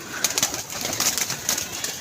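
Pigeons at a pigeon club coo softly in a steady, repeated murmur, several birds near and overlapping, with no talking.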